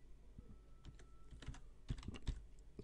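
Keys clatter on a computer keyboard as a password is typed, an irregular run of close, crisp clicks with a couple of louder strokes near the end, no voices.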